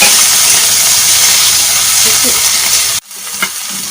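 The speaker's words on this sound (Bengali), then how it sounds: "তেলটা একটু কমে নিয়ে আমি কটা জিরে, তেজপাতা আর কয়েকটা আস্ত গরম মশলা ফোড়ন দিয়ে দিলাম" Cumin seeds, bay leaf and whole garam masala spices sizzle loudly in hot oil as a steady, close frying hiss, cutting off abruptly near the end and leaving quieter kitchen clatter.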